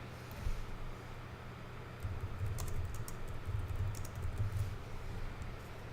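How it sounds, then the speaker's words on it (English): Soft, quiet typing on a computer keyboard, with scattered light key clicks over a low steady hum. "And then we can type whatever we want here."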